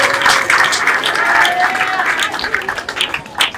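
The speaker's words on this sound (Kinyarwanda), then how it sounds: "munyemerere tuyikomera amashyi" Enthusiastic applause from a church congregation fills the space, dense clapping sustained throughout and swelling near the end, with voices mixed in.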